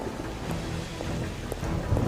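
Steady rain falls during a thunderstorm, a dense even hiss with a low rumble of thunder underneath, heard fairly quietly and without voices.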